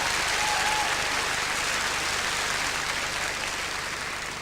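Sustained audience applause at the 1983 Eurovision Song Contest, a dense even wash of clapping from a large crowd filling the whole stretch, steady and loud with a slight fade at the end.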